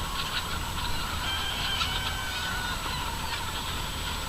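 A flock of California White chickens around a farm truck in the early morning, giving a steady, moderately distant mass of clucking and squawking calls with no talk.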